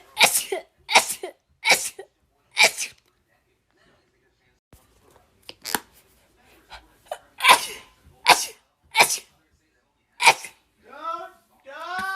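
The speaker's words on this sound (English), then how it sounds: "I'm trying not to, but I got to sneeze." A person sneezes again and again, about nine sharp, loud bursts spaced through the stretch, with quiet breaths between and a few spoken words near the end.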